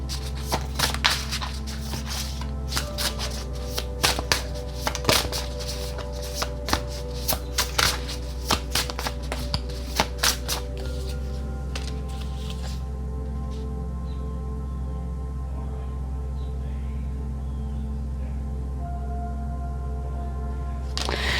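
A deck of tarot cards is shuffled by hand, with crisp riffling and tapping in quick irregular bursts over a low background hum. The shuffling stops about halfway through, and only faint room tone remains.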